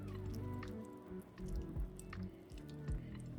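Sourdough banana muffin batter with milk and oil being stirred by hand, giving wet, squishy, sloshing sounds with soft drips that rise and fall steadily, close up and fairly quiet.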